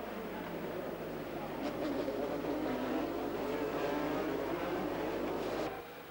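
F3000 race cars, Ralt Hondas and a Lola, accelerating off the start at Brands Hatch in 1987: a loud, dense engine roar that builds and holds, with rising engine tones. It stops abruptly near the end.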